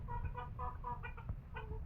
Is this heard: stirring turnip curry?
no